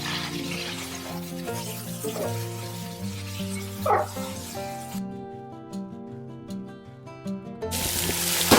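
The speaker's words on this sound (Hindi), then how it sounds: "प्याज हमारे हो रहे हैं ब्राउन।" Onions frying and browning in oil for mutton biryani give a steady, close sizzle under prominent background music, which drops out briefly midway and then returns.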